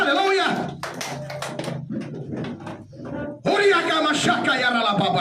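Church congregation at Gereja Rehobot Cikeas clapping and cheering together, a dense burst of applause and voices between stretches of a preacher speaking loudly over it.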